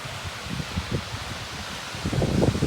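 Steady cold wind buffeting and rustling close to the microphone near the sea at Dunkirk, with low gusty rumbles rising and falling throughout.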